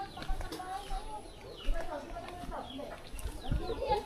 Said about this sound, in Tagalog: Ari pala magandang manok.